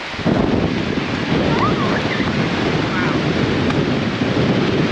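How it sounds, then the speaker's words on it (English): Strong gusting wind at a lake campsite roars steadily across the microphone, a loud, dense rush of buffeting noise that never lets up. "Yeah, I can't believe how windy that is."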